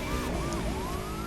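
Police siren from the rooftop light bar of a BMW M8 Competition in The Crew 2, a loud wailing tone sweeping up and down over engine rumble.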